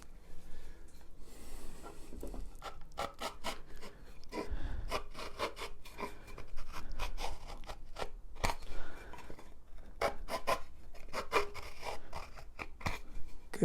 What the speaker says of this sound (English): I want to get a deep enough impression with that spur to be able to run a pencil down it